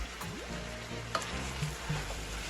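Yellow onion stirred and mashed in a hot pan with a spoon used as a masher, soft scraping and faint sizzling close by, with a few light knocks.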